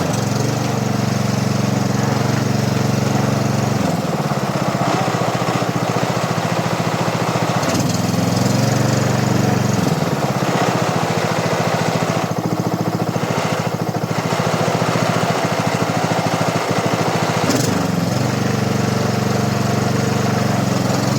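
A brand-new Honda HRX 537 lawn mower engine runs loud and close, holding a steady drone with a few brief shifts in pitch and load throughout, no voices present.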